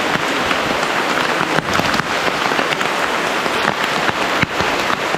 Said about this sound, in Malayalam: അപ്പോൾ നല്ല മഴയടിക്കുന്നുണ്ട്.